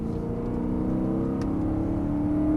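BMW M3 E92 V8 pulling hard out of a corner on a race circuit, a steady close engine drone whose pitch climbs gradually as it accelerates, with no voices over it.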